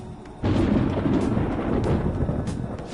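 Thunder rumbling in the video game Persona 5 Royal: a low, sustained roll that swells suddenly and keeps grumbling steadily at fairly loud level, with no voices.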